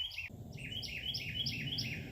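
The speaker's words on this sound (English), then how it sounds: "Did you hear that bird?" A small bird chirps in quick repeated high tweets, five or so in a row, close and clear over a steady outdoor background hiss.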